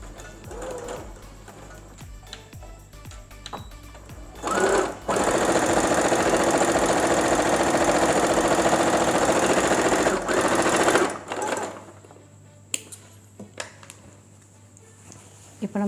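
A sewing machine stitches a semi patiala salwar pant in a steady, loud mechanical whir that runs for about six seconds, with quieter intermittent stitching bursts and a voice talking before and after.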